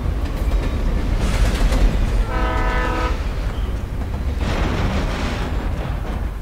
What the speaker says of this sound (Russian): Поезда.